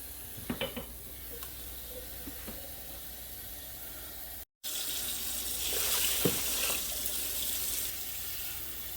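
Tap water runs steadily into a quart mason jar, a close, even hiss and splash that briefly cuts out and then resumes a little louder, with no one speaking.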